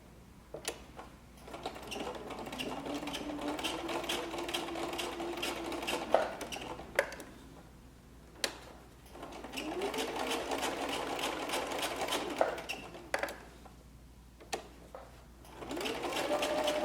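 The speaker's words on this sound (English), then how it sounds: "I'm gonna go ahead and just carefully sew while I'm watching those" A sewing machine stitches a second row along a patch pocket in three separate bursts of steady, quiet whirring, with short pauses and small clicks in between.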